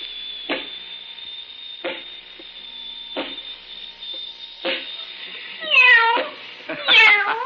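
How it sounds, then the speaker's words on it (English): A small kitten meows several times in short, high cries, the last two more drawn out and wavering, over a steady high-pitched electronic hum. "Pick it up. And pet the kitty. Nice kitty."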